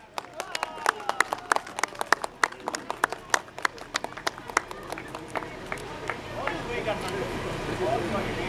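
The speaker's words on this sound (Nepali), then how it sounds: "जोरदार ताली का साथ स्वागत करूं" Crowd applause greets the women's winner at a golf tournament prize ceremony in Pokhara, Nepal, heard as sharp, scattered claps from a modest gathering, fairly close, rising into a denser patter toward the end.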